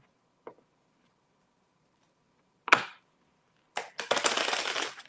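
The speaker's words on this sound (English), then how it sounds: "I'm shuffling these cards one last time." Tarot cards are shuffled in quiet surroundings, beginning with a few isolated taps and snaps and ending in a sustained riffling burst.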